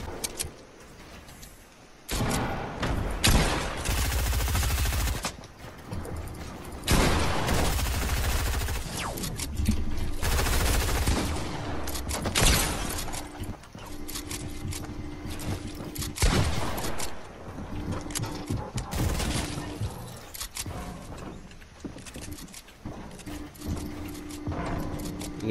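Gunfire in Fortnite Chapter 2 comes in repeated loud, rapid bursts and shots across a long battle stretch, broken by brief quiet gaps, with clattering impacts and varying distances.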